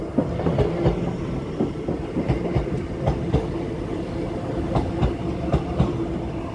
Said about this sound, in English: And here's our train. It is the brand new Class 805 IET.